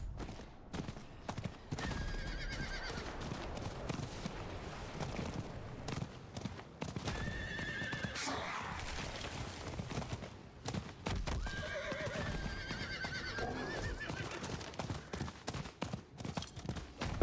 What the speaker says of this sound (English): I'm pretty sure horses cannot body check bears like that in real life, but this is a game.